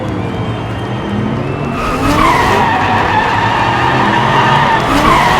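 Race car drifting and skidding hard through a corner, then striking the top of the bend, during a French group 8 race with Dodge, Ford, Cupra and Nissan cars; loud continuous tire squeal and engine roar building steadily without pause.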